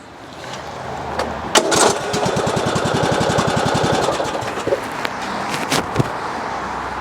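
A lawn tractor engine cranks and catches, then runs with a rapid, buzzing idle, broken by a few sharp mechanical clunks and taps near the end, close and loud with no talking.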